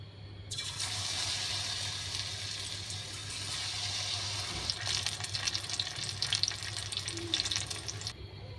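Yardlong beans drop into hot oil in a home kitchen, setting off a loud, steady sizzle that lasts several seconds and crackles more sharply toward the end.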